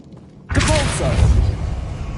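A Depulso spell goes off in Hogwarts Legacy: after half a second of near quiet, a sudden loud whooshing blast erupts and holds as a dense, rumbling rush until the end.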